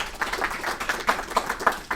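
An audience at the SmartConnected Roadshow conference in New York City claps briefly, quick uneven claps close by that fade within about two seconds.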